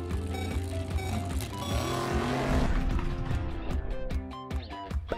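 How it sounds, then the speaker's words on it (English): Toy car zooming past farm fields in a children's toy town, a loud continuous engine-like roar with a sweeping pass-by swell midway, then fading into rattling clatter. "It zooms past the farmer's fields as we head into town."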